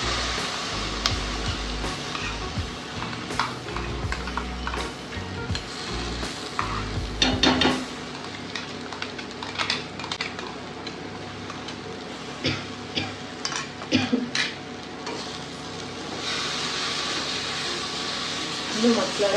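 Onion and masala fry in a pan without oil for paneer butter masala, a soft, steady sizzle with occasional stirring clicks and scrapes, while a voice talks over it much of the time.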